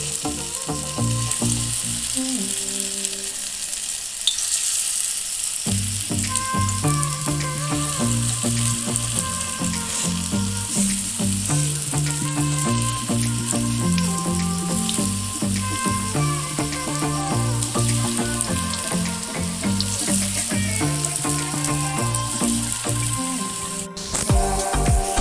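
Food pieces drop one by one into hot mustard oil and fry with a dense, continuous sizzle and crackle, heard close and fairly loud under steady background music.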